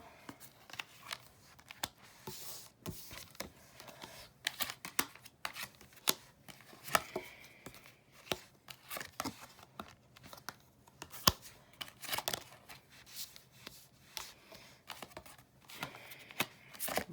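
Tarot cards are handled and laid down on a table in a close, quiet sequence of soft slaps, flicks and shuffling rustles, irregular and unhurried, with no voice.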